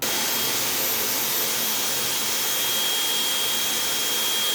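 Dyson hair styler blowing steadily while curling short hair, a loud, constant airy whoosh with a thin high whine, unbroken throughout with no talk.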